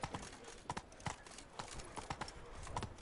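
Roach the horse walks in a video game, hooves clip-clopping at a steady, unhurried pace, fairly close and moderately quiet, over a soft outdoor ambience.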